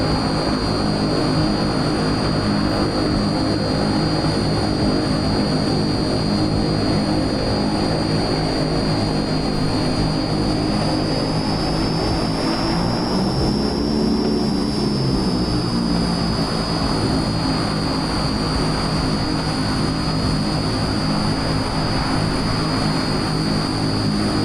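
Steady propeller aircraft engine drone from Microsoft Flight Simulator 2020, loud and continuous with a high whine throughout, briefly shifting in pitch midway as the plane prepares to taxi; no voices.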